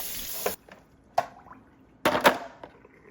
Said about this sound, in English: all components associated with the tray are carefully emptied and washed out in the sink